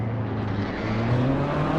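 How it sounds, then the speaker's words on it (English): A race car engine from Assetto Corsa Competizione drones loud and steady, a low tonal hum that climbs slightly in pitch, with no talk over it. "don't hear any engine sound from him"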